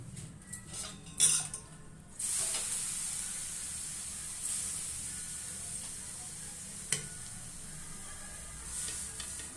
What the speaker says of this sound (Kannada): ದೋಸೆ ಹಾಕ್ತಾ ಇದ್ದೀನಿ, ಹಂಚಿನ ಮೇಲೆ ಹಂಚು ಕಾದಿದೆ